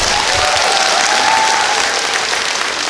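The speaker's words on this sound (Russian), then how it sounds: "Давайте подарим ей аплодисменты." A concert audience applauds steadily at her solo concert in Tolyatti, dense clapping filling the space evenly for the whole stretch.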